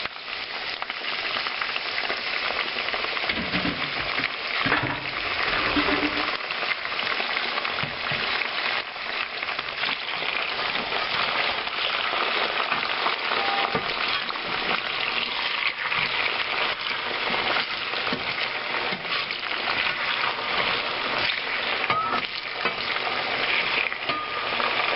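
Peeled, strained potatoes frying in a hot pan on a stovetop, a steady dense sizzle lasting throughout with occasional scraping of stirring near the start, close and fairly loud with no talking.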